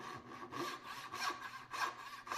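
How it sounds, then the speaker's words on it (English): A hand saw rasps through wood cutting dovetails, in steady back-and-forth strokes, about five or six rhythmic passes, close and fairly quiet. "So there's a fair bit of sawing."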